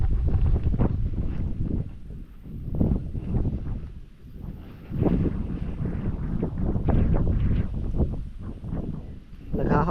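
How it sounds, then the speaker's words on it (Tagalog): Strong outdoor wind gusts buffet the microphone with loud, rumbling low roars that swell and ease, and a faint voice is heard underneath. "Hangin"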